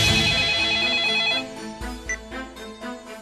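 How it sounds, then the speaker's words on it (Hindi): A telephone ringtone plays while a call is placed, an electronic melodic ring that sounds continuously at first and then gives way to shorter tonal bursts and knocks. "इस मजनू को फोन लगाओ और अभी के अभी यहाँ बुलाओ।"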